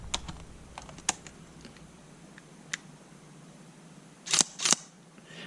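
A faulty Sony A7 II camera shutter gives sharp, scattered mechanical clicks and ticks close to the microphone, ending in two louder clattering bursts near the end, with no speech.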